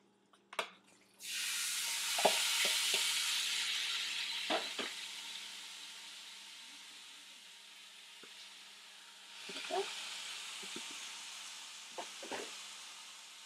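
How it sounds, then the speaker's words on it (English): Pork and chicken with fajita mix drop into a preheated pan and set off a steady, hissing sizzle, with occasional scraping and clinking as the meat is stirred and spread, fairly quiet and close, with no voices. "So I'm just going to add them both to the pan over here that has already been on"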